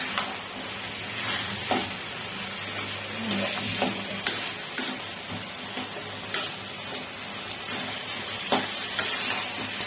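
Fish head and greens curry stirred in a frying pan, a steady sizzle with intermittent spatula clicks and scrapes against the pan, close and fairly even throughout.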